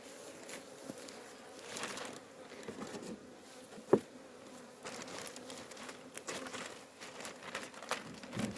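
Honeybees hum faintly around a beehive outdoors, a soft continuous buzz with brief rustles and one sharp click, and no talk.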